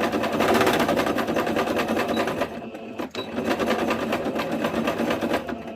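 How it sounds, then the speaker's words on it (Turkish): A sewing machine stitches a tablecloth along a marked line, its needle running in a fast, steady, loud mechanical chatter that pauses briefly midway and then resumes at the same pace. "Belirlediğimiz çizgi hattından dikiyoruz. Çizgimizin tam üzerinden dikiyorum."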